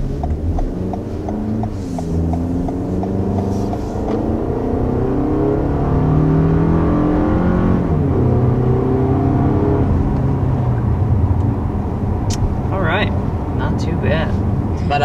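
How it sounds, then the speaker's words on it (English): 2021 Toyota Camry accelerating, a steady engine drone rising and shifting in pitch beneath continuous talking. "this Camry, upon its first acceleration"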